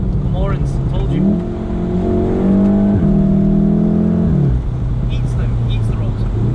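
A Volkswagen Golf R engine revs up loudly and close by, with a rising then falling tone over a steady drone, while a voice talks over it.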